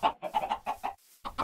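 Video game chickens cluck in a quick series of short, close clucks, with a brief pause before two more.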